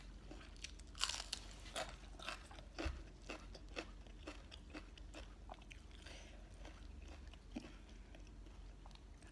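Crunchy kaffir lime leaves chewed close up, a steady run of crisp bites and crackling crunches with faint background hum, no talking.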